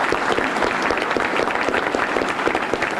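Steady, dense applause from an audience at an academic awards ceremony, continuous and fairly close throughout, with no talking over it.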